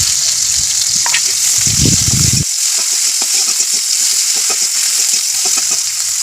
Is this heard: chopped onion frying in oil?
yes